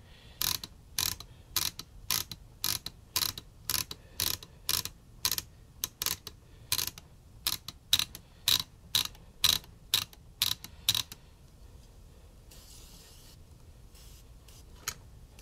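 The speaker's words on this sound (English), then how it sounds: "I'm just going to ratchet the hell out of this and put it back together." A hand ratchet clicks in quick, regular bursts of about twenty strokes while a Sylvania color tube television is reassembled, close and crisp, then it stops with only faint handling after.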